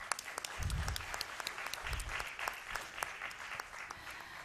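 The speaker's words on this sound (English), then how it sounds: "let's give a huge round of applause to all the speakers" An event audience gives a round of applause for the speakers at a Covid genomic sequencing celebration in Karnataka, a moderate, steady patter of many hands clapping at some distance.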